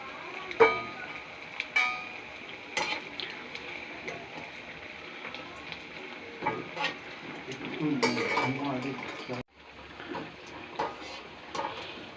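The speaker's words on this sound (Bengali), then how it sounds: "তবুও একটু হালকা আঁচে একটু গাঢ় করে ভেজে নিচ্ছি" Boiled cauliflower pakoras frying in pure mustard oil over a low flame, a steady soft sizzle with occasional clinks and scrapes of a utensil against the pan, a short gap near the end, and no voices.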